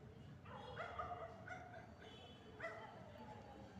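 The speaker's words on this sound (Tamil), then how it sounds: "அதுக்கு கத்துதா நாய் கத்துதா" A dog barks and yips in several short, whimpering bursts, fairly quiet and at a moderate distance, with faint background noise between the calls.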